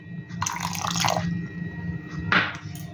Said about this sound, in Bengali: এবার আমি গ্যাসের ফ্লেমটা লো করে দেব, দিয়ে এর মধ্যে দিয়ে দেব 2 চামচ ভিনিগার।